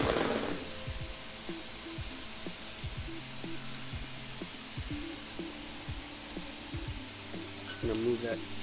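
Chicken Philly cheesesteak meat with cheese chunks sizzles steadily in a pan, with clinks and scrapes of a utensil stirring throughout.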